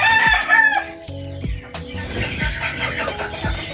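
Chickens and chicks being fed a wet mix of pellet feed, with a rooster crowing loudly near the start, then overlapping clucks and chirps from the flock.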